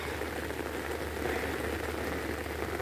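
Steady rain falling on a flooded home garden, a soft, continuous hiss of drops, even and fairly quiet throughout, with no voices.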